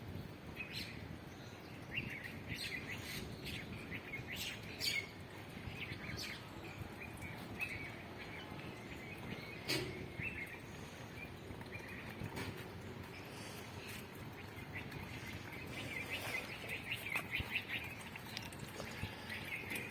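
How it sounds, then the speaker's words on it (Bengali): A flock of myna birds chirps and calls in the morning from a distance in a quiet outdoor setting, scattered sharp notes repeating irregularly over soft background ambience. "শালিক পাখি মনে হয় বসে রয়েছে অনেকগুলি"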